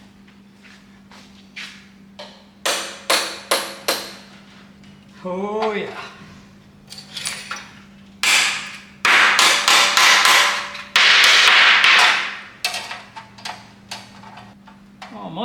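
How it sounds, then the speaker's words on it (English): Sharp hammer strikes on metal ring out in bursts of several blows, close and loud, with a steady hum behind and a brief spoken remark. "Let me hit it with a hammer."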